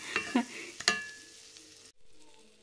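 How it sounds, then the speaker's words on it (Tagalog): Butter hitting a frying pan (kawali), a few sharp clatters and taps at the start followed by a soft, quieter sizzle that cuts out briefly near the end. "ilagay ang butter sa kawali"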